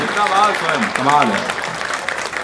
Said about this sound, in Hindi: एक बार पूरा सदन दोनों हाथ उठाकर तालियां बजाकर मुझे आदेशित करे